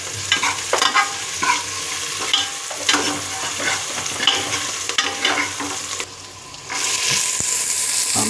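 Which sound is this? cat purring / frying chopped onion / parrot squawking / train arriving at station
frying chopped onion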